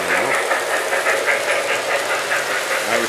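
A K-Line O-gauge model train engine runs steadily under a Christmas display layout, a loud, continuous motor whir with a rapid rhythmic clatter pulsing throughout.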